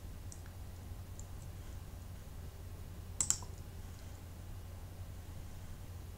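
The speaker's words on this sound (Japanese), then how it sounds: "OK をクリックします。" A mouse button clicks once on the OK button in Excel: a quick, quiet double tick in the middle of the clip, alone over faint steady hiss.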